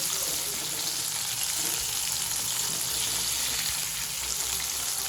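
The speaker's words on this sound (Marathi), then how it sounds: "आता या एका साईडून फ्राय करून झाल्यात. आता याला आपण पलटी करून घेऊ." Crispy chicken strips fry in oil over low heat, producing a dense, continuous hiss and crackle that stays even and close for the whole stretch, with no voices.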